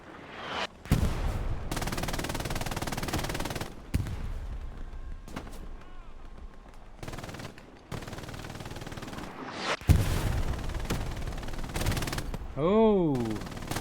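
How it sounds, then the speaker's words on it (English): Machine gun fire in the Hell Let Loose game, repeated bursts of rapid rattling shots separated by quiet gaps, some close and sharp, others more distant, with a brief whistling tone near the end and voices talking at times. "Machine gun fire going on."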